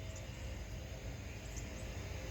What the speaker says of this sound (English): Looks like a jet's been going across there.